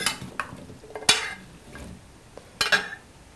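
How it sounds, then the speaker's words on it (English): Vegetables for roasting are tossed with a generous amount of olive oil. The close scraping and stirring comes in uneven bursts, with light clinks of utensil against bowl or pan and no speech. "I like to really be generous with the olive oil because you want them to have enough oil so that they can caramelize. And so I'm just going to toss that"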